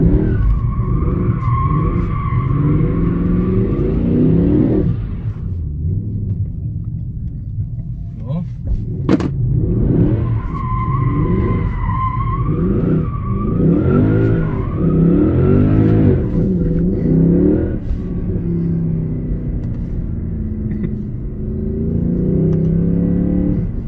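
Tyres of a Mercedes C63 AMG being broken in, squealing and skidding in long loud stretches over the rumbling, revving engine, close up, with a voice speaking over parts of it.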